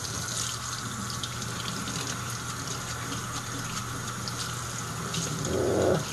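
Steady running water rinses a robot vacuum mop pad under a tap, a continuous even gush with a slight swell near the end, and no voices.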